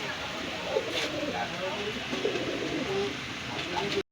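A pair of yellow-eyed Nepali pigeons coo in soft, repeated bursts close by, amid a steady background of other birds, while someone talks over them.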